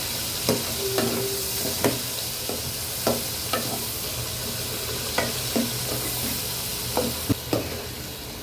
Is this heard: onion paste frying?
yes